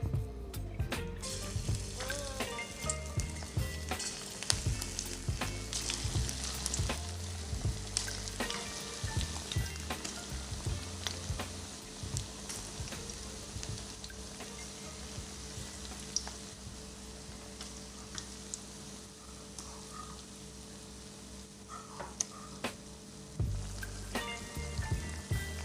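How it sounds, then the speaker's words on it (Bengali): Onion pakoras frying in hot oil over a low flame, giving a steady close sizzle with frequent small pops and crackles, plus occasional utensil clinks, with no talking. "এবার আমরা ছোট ছোট করে পোরশন করে পেঁয়াজিগুলো তেলে ছেড়ে দেবো"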